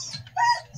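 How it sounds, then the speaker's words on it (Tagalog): Broiler chickens clucking close by, a brief pair of short throaty calls over a low background murmur. "Broiler chickens."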